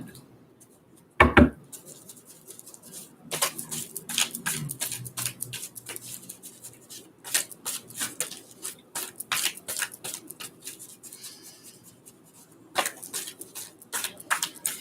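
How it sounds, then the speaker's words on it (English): Cards shuffled by hand during a tarot-style reading, giving bursts of crisp riffling and flicking clicks in irregular clusters, close and fairly soft, with a sharp knock near the start and no talk. "As I'm shuffling"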